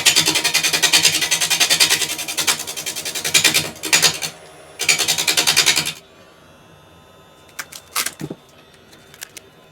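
Broadband scraping and rasping as a gouge hollows the end grain of a natural-edge yew vase spinning on a woodturning lathe, loud in bursts for about six seconds, then quieter with a few sharp clicks and taps.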